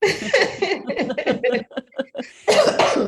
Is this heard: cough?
yes